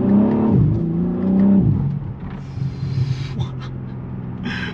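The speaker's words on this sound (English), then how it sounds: "Oh, the car sounds a little, and give it a little acceleration." BMW M3 Touring in sport mode with manual M1 setting, its engine revving up under light acceleration, a rising then settling rumble heard close from inside the cabin, with a gasp-like voice briefly over it.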